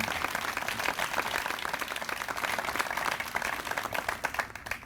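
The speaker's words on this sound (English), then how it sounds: "round of applause to all of you for making that happen" A crowd applauding at a university groundbreaking ceremony, steady dense clapping from many people at moderate distance, sustained for a few seconds before it begins to thin.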